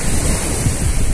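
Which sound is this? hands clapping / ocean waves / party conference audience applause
ocean waves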